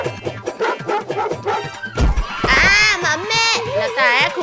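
Dogs bark and yelp loudly in a comedy sketch, overlapping with children's excited cries and whimpering voices throughout.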